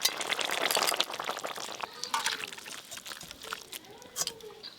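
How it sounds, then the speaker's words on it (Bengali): Boiled tilapia fish curry pours and splashes out of a pan, the liquid sound loudest at first and then trailing off into softer, intermittent gurgles. "প্রায় 2 মিনিটের মতো মাছ দেওয়ার পর ঝোলটা ফুটিয়ে নিয়েছি, এবার ঢেলে নেব"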